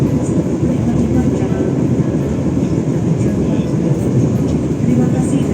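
An Indonesian passenger train runs steadily, heard from inside the carriage as a loud continuous rumble and rattle with faint clicking, and a voice announcement plays over it.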